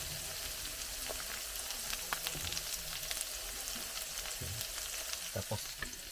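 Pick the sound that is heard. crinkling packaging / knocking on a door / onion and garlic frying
onion and garlic frying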